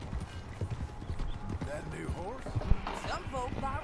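Horse hooves clip-clop at a steady riding rhythm in Red Dead Redemption 2, close and clear under a man's speech and background game sounds.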